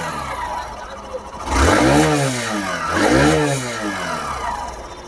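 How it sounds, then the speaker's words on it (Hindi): A 2023 Hero Glamour 125 motorcycle revving through its exhaust, idling and then rising in two throttle blips before settling back, loud and close, with someone talking over it. "अब थोड़ा सा इसको एक्सीलरेट करके देखते हैं कि इसमें कैसा साउंड आने वाला है।"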